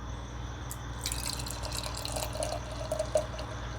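A Russian Imperial Stout, Bear Republic Spawn of Yaga at 12%, pours from a can into a Teku glass with a soft gurgling trickle and faint bubbling splashes, quiet and close over low background hum.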